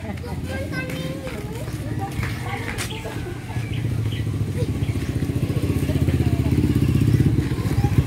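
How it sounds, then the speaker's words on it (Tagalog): A motorcycle engine drones steadily beneath a crowd of chattering voices and children, growing louder and closer toward the end. "Diri may motor oh."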